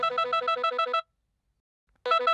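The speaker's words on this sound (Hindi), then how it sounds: "मम्मी जी का फोन" An incoming call on a telephone plays an electronic ringtone in a home setting: a bright, pulsing melodic trill for about a second, a short silence, then the same ring starting again, close and clear with no talking.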